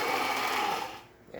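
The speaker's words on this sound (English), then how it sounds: "we will do the adjustment as it's grinding over here." A Saeco coffee machine's grinder whirs loudly and steadily, close by, then winds down near the end.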